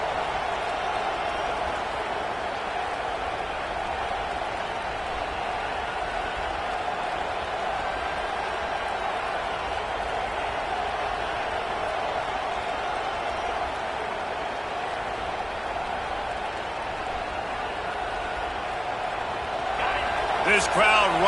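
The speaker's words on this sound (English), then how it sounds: "This crowd rising up, sensing that its defense needs some help" A football stadium crowd holds a steady, distant roar for a long stretch, then lifts into louder cheering near the end.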